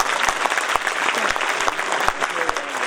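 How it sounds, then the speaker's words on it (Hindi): Loud, dense applause from a crowd fills the space, with steady clapping and a few sharper claps standing out. "भरपूर तालियां होनी चाहिए दोस्तों"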